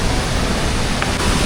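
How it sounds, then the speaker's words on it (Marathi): Steady, dense rushing roar of the Mini Devkund waterfall near Bhorgiri, Rajgurunagar, on a rainy trek. It is loud and unbroken throughout, with no voices. "कारण समोर धबधबा आहे"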